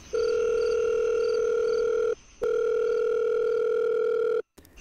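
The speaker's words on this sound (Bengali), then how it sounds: "ফোনটা বেজে গেল" Phone ringback tone on an outgoing call, a loud steady electronic tone held for about two seconds, a short gap, then another long tone, heard alone.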